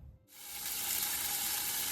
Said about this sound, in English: You'll hear in the background sizzling, so let's show you that. That is 2 ribeye steaks.